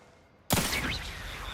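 A single sharp revolver shot in The Outer Worlds 2 sci-fi game, sudden and loud after near silence, with a ringing tail and faint game effects trailing off.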